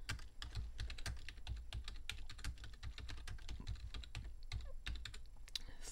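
Keys clatter on a computer keyboard in steady, quick close-up typing, a dense run of light clicks and taps at low volume with no one talking.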